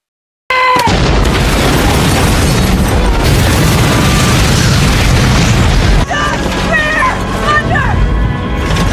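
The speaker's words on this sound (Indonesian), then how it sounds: "kapal Arctic Warrior akhirnya meledak" The ship Arctic Warrior explodes in a film scene: a loud, sustained roaring blast with heavy low rumble and crackling debris for several seconds, easing slightly midway, with dramatic music tones layered over it.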